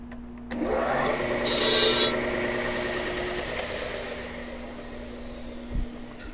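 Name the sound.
sanding the end of a wooden pen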